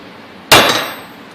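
A single sharp, loud metallic hammer strike rings out while knocking out a u-joint on a Polaris Sportsman 500 ATV, decaying over about half a second with a faint tap at the end.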